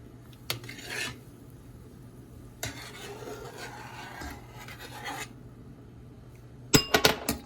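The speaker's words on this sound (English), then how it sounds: "Oops, don't break the dishes." Kitchen dishes rasp and scrape in two short stretches, then clink sharply together in a quick cluster of bright hits near the end, close by in a quiet room.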